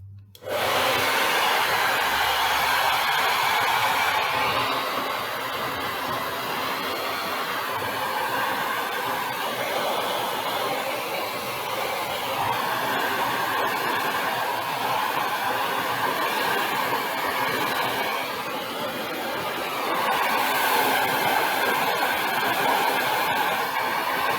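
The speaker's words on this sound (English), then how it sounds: "I'm going to hit it with the blow dryer again" A blow dryer drying a prosthetic nose whirs steadily and loudly throughout, a constant broadband airy roar with a slight surge near the end.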